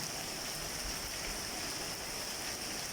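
Heavy rain pours down in a steady, dense hiss with no pauses, close and constant throughout.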